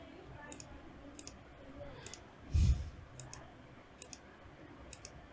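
Sharp, quiet mouse clicks, several spaced across a few seconds, refreshing a page on a computer, with a brief low thump partway through.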